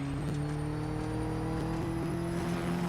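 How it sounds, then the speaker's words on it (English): A damaged race car engine in Real Racing 3 drones steadily at close range, its strained hum wavering slightly in pitch throughout, with no talking. "The car sounds absolutely knackered."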